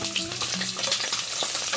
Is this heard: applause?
no